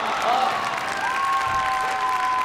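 Spectators cheer and applaud at the Crufts 2010 large international agility jumping, a steady loud crowd roar with whistle-like tones rising through it.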